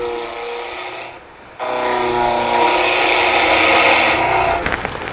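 A turning tool cuts a wooden oval tool handle spinning on a lathe, giving a steady, loud scraping and shaving hiss that breaks off briefly, then resumes continuously up close with the motor hum underneath.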